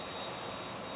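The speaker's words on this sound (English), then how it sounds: "I think they're starting the engine up" Aircraft engine starting up at an air show in Blackpool, a steady broadband roar with a thin high whine, loud and continuous throughout the brief moment.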